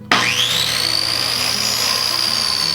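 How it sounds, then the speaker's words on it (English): Track saw starting up and cutting into a wooden tabletop in a workshop, a sharp motor spin-up rising into a loud steady high whine, close and alone. "I go around and cut all 4 sides with my track saw"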